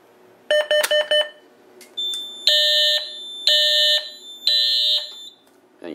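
A Simplex 4010ES fire alarm panel with IDNAC sounds after a pull station is activated: a rapid burst of loud electronic tones, then three long, steady, piercing horn blasts with short gaps, close and with no talking.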